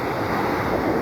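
Sea waves on open water looking toward Sudan, a steady broadband wash of surf with a wind-like hiss, loud and close, no voices.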